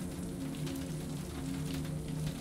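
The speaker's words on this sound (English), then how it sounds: "The pelts of rain create this gentle rhythm that lulls you into a trance state." Gentle rain falls during a calm Cotswolds bedtime scene, a soft, even patter that continues steadily throughout beneath a faint, sustained tonal background.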